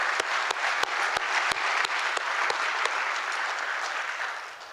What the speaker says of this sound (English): Give a huge round of applause to everybody in NMEAC that does great work day in and day out.